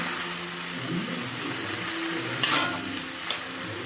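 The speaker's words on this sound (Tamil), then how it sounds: "இந்த சமயத்தில் ஒரு கைப்பிடி தேங்காய் இதையும் போட்டு கொஞ்சம் வதக்கிக்கலாம்" A handful of grated coconut sautés with cooked tomatoes in a pan for a green turkey berry chutney, a dense close sizzle with a couple of brief scraping stirs and no talk.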